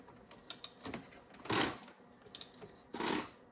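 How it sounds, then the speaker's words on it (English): A BMW M5 V10 engine is turned over by hand with a 32 mm socket, giving a few short mechanical clicks and then two longer rattling, grinding pulses that suggest timing chain noise, quiet and close. "that doesn't sound good. That sounds like timing chain."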